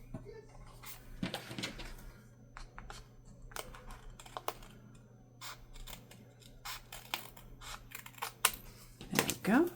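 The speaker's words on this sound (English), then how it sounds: "So let me trim that off so I can corner around it." Scissors trim paper for a handmade tag, a scattering of quiet, crisp snips and paper rustles with a few sharper cuts near the end, close and faint over low room hum.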